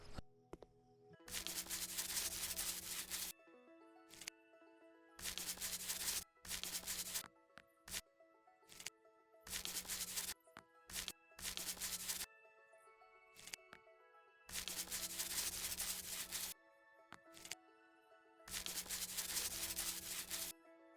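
Repeated rubbing strokes of a paint roller on walls in the House Flipper video game, coming in regular bursts of a few seconds separated by short pauses, with faint background music and no talking.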